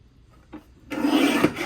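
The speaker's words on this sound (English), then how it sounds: "Once again, we'll trim at 10 1/2 and 6 1/4." Pale blue cardstock is sliced on a paper trimmer, with a faint rasp and then a louder, steady scraping stroke lasting under a second, close and alone.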